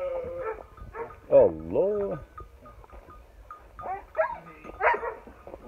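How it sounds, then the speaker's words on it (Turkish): Hunting dogs on a farm give a few barks and yelps among other animal sounds, mixed in with close conversation between people. "Bunlar avcı köpekleri."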